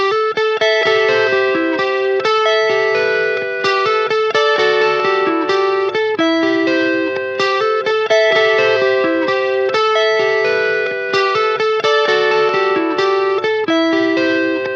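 A looped electric guitar riff with layered chord harmonies, heavily effected with distortion and chorus, plays a loud, rhythmic, repeating pattern of plucked notes throughout.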